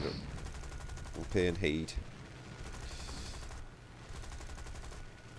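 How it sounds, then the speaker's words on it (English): Rapid aircraft cannon fire in a War Thunder squadron air battle, a dense rattling burst running steadily through the moment under engine drone, with a player speaking briefly over it. "Keep an eye for me, cannon fire coming in."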